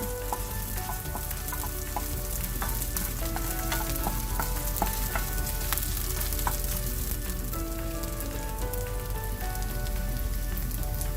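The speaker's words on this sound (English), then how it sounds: "you want to brown this on a slow flame, so the coconut pieces gently roast in the oil and become a very light brown" Coconut pieces and beef for Kerala beef chukka frying in oil over a slow flame, a steady close sizzle with scattered pops and crackles running throughout, no voices.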